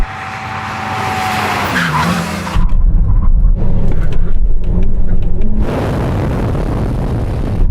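Ferrari SF90, Porsche Taycan Turbo GT and Yamaha R1M braking hard at a drag race, tyres squealing and skidding loudly for several seconds, then a rough roaring scrub and a final longer skid.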